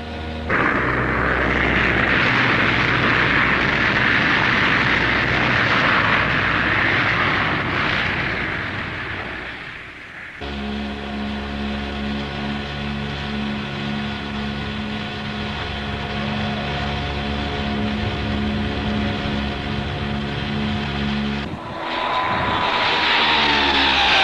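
Loftleiðir airliner engines roaring loudly and steadily during takeoff, a broad continuous rumble with a brief dip, then a sustained tonal whine that swells back into a full roar near the end.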